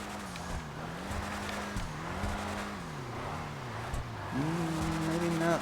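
A Lampadati Viseris sports car drifts in GTA 5 Online, its engine droning and wavering in pitch as the revs rise and fall, with tire noise underneath and a sharper, louder rev near the end.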